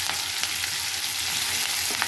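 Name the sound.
curry leaves, onions and green chillies frying in oil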